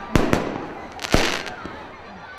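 Fireworks burst over a Christmas tree lighting in a crowded town square in Ierapetra, a few sharp, loud bangs crackling at irregular intervals over the hum of the gathered crowd.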